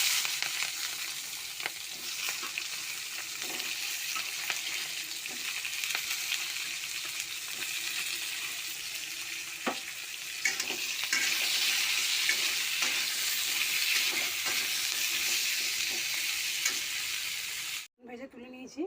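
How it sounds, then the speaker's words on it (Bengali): Eggplant fries in leftover oil in a wok after fish, giving a loud continuous sizzle with occasional stirring scrapes throughout, ending in a brief sharp break near the close. "আমি বেগুনগুলো ভেজে নেবো প্রথমে।"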